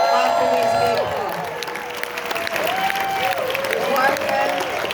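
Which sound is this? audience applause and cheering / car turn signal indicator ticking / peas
audience applause and cheering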